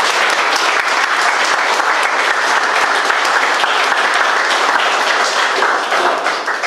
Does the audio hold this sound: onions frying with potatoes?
no